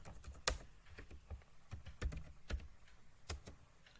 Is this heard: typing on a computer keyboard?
yes